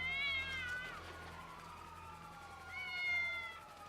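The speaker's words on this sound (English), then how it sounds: "Am I a cat? I am. I'm a cat." A cat meows in GTA 5, two clear drawn-out meows, one at the start and another near the end, over a low steady hum.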